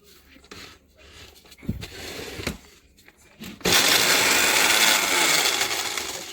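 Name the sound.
blender grinding baked eggshells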